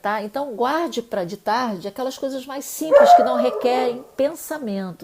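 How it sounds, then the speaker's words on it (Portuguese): A dog barks a few times indoors, the short yaps breaking in over a person who keeps talking steadily in a home craft studio. "desculpem o cachorro"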